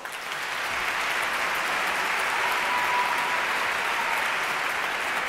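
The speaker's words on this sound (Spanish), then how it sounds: "Un aplauso, ¿no?" Steady, sustained applause from a concert audience at an educational children's concert, a dense wash of clapping that swells in within the first half second and holds evenly loud to the end with no voices over it.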